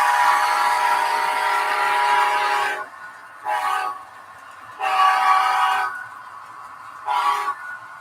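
A DCC-controlled model train horn blares loudly in a long blast, then sounds in shorter bursts broken by gaps, on a layout with no talking over it.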